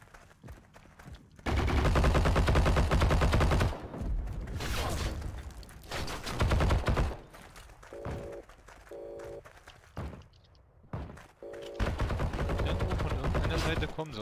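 Machine guns fire bursts in the online shooter Heroes & Generals on the Colmar Hamlet map. Long rapid rattling volleys, some close and loud, alternate with shorter gaps, and a player talks in between.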